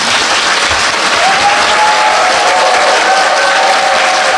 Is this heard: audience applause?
yes